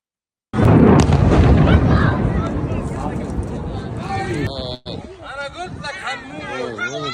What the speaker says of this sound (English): So as you see, airstrike inside Rafah city.